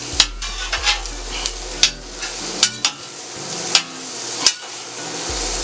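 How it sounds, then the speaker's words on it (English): Chicken Philly cheesesteak filling cooks on a Steelmadeusa griddle, with a steady low sizzle broken by sharp metal spatula clanks and scrapes as it is mixed, several distinct strikes close by. "And we're going to mix these up in here. Continue to let them cook."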